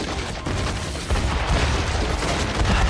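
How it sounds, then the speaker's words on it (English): A cave collapsing in an explosive cave-in in the video game Metaphor: ReFantazio: a dense, continuous roar of crashing rock and booming rumble that swells louder after the first second and stays heavy throughout. "Why is the cave exploding behind you?"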